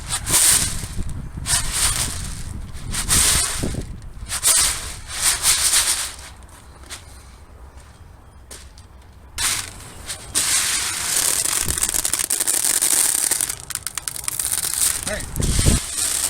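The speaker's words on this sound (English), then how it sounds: "Now that we've got this corn winnowed out and it's mostly cleaned up" Dried corn being winnowed outdoors, tossed up and caught so a breeze blows the chaff away, giving bursts of rustling, hissing kernels and husk with wind noise and a lull in the middle.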